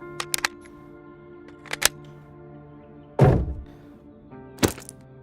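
Weapon reloaded in a first-person extraction shooter game, a few sharp clicks and metallic clacks with a heavier thunk midway, spaced irregularly over a quiet background hum.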